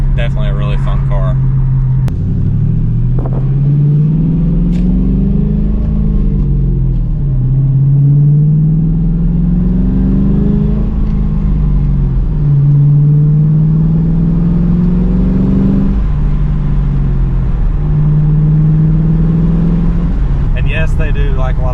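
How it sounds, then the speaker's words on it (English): New Edge Ford Mustang engine driven on the road, repeated rising and falling revs through the gears with a steady mid-pitched drone, loud and close, with a person talking over it. "I think these are one of the better sounding Mustangs that has ever been made."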